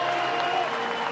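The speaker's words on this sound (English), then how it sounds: "Runners advance, crowd roars." Crowd cheering and applauding at a college softball semifinal between BYU and Oklahoma, a steady, dense roar of many voices and clapping that holds throughout, with no one speaking over it.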